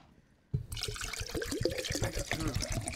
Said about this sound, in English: That's me filling up water, that sound.